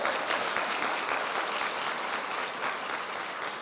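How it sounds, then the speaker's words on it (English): A conference audience claps steadily and loudly throughout, a dense continuous wash of applause. "That deserves a round of applause, right?"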